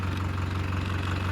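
A Farmtrac 6055 tractor engine idles steadily with a low, continuous rumbling hum close by, with no talking over it.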